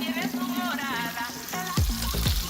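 Food fries at the fry station of a Spanish restaurant kitchen: a loud, close sizzle runs throughout, with utensil clatter and faint voices in the background.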